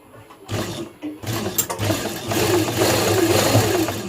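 A sewing machine stitching a pocket onto a formal shirt runs in a steady mechanical whir, starting after a short pause and continuing fairly loud and close for most of the clip.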